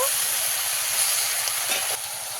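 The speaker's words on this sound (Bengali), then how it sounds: "সবজিটা আমি অনেক সময় ধরে অনেকক্ষণ ধরে কষিয়েছি এবারে জল দিয়ে দেব" Water poured into a pan of sizzling winter vegetables, setting off a loud, steady hiss of steam and sizzle close by that drops slightly toward the end.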